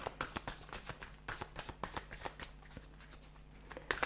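Tarot cards being shuffled by hand, a quick run of crisp riffling flicks and slides at close range, fairly quiet and with no talking.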